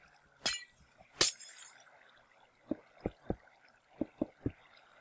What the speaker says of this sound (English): I'm going to break the glass out of here